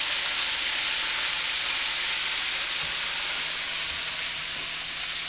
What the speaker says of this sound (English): if you realize your chicken is frying too fast, just turn it down